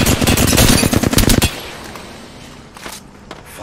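Rapid automatic gunfire from the Apex Legends video game, played as Caustic, rattles loudly in a dense burst for about a second and a half, then cuts off, leaving faint ambient noise and a few light clicks.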